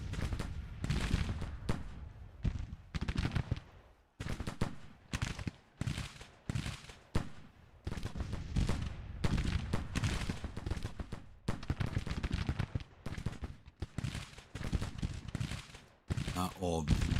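Massed cannon and musket fire in a Civil War strategy battle, with a dense, irregular run of booming shots and volleys rolling on throughout, fairly loud, and a voice talking over parts of it.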